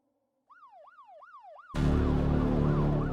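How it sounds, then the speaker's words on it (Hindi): A police siren wails in repeated rising sweeps, faint at first, then masked by a sudden loud burst of dramatic background noise while the wail continues underneath. "ये तो पुलिस का सायरन है।"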